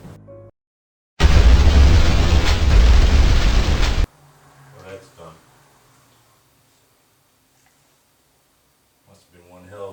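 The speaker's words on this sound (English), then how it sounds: "Explosion." An explosion sound effect bursts in loudly after a brief silence, a roaring blast that holds for about three seconds and then cuts off, leaving faint rustles and soft voices afterward.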